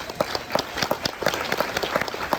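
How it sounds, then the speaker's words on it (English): Applause at a Hispanic Heritage luncheon, with a smaller group clapping in a lively, uneven rhythm where individual close claps stand out sharply above a softer background patter. "So give him an extra round of applause."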